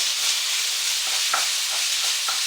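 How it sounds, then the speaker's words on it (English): Minced lamb sizzling in a frying pan over medium heat with no added fat, a steady close hiss of frying with a few soft stirring scrapes. "we've added all the minced lamb straight into a frying pan on a, let's turn that down a bit, on a medium heat"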